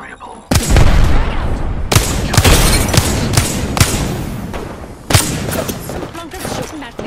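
Rapid gunfire in Apex Legends on PS4: sharp, loud shots and short bursts crack out close by, with several distinct volleys spaced through the stretch and a voice talking in between.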